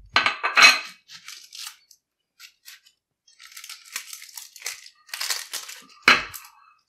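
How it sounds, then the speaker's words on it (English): An onion is peeled by hand, its papery skin crackling and crunching in short, close bursts with brief pauses between. "That's the way you peel an onion."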